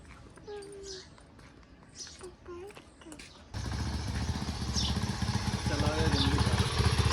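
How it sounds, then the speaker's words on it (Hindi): A motorcycle in a village yard starts up partway through: quiet outdoor ambience with birds and a faint voice gives way to a steady, loud idling engine rumble close by that continues to the end. "मोटरसाइकिल भी भाई जी ने स्टार्ट कर लिया है"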